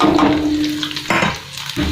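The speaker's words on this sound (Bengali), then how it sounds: "পেঁয়াজটা দেখেন লাল রং ভাজা হয়ে গেছে" Chopped onions fry in hot oil with a close, steady sizzle, broken by a few sharp bursts as they are stirred.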